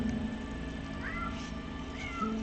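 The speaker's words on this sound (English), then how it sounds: "I don't know if you all can hear my cat meowing at the door." A cat meows at a door somewhere off to the side, a few faint, short mews heard over a steady background hiss, with no one talking.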